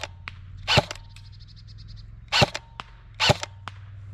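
Specna Arms M4 CQB Keymode airsoft rifle firing at a target outdoors, three sharp cracking shots spaced about a second apart, each with a brief snap and faint impact, alongside lighter clicks between them.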